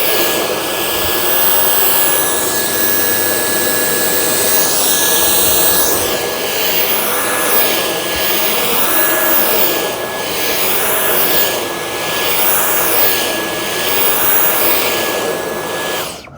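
A Dyson Cyclone V10 cordless vacuum runs at max suction on carpet, giving a steady, loud whine with a constant high tone and slight surges as it moves, close up with no talking.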